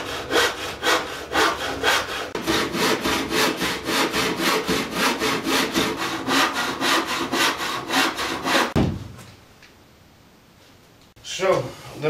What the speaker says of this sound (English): So, the mini wood eater, rasping file or whatever.